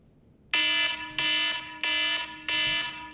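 A game timer alarm sounds in loud repeated electronic bursts, four blasts in a steady rhythm with short gaps, harsh and buzzy like a fire alarm, with no talking.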